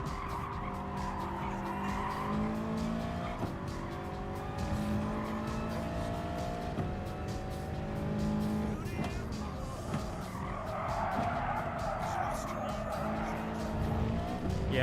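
A Subaru BRZ race car in Gran Turismo Sport drones steadily through its gears, engine tone rising and falling alongside bursts of tire squeal and skidding, loud and continuous for the whole stretch.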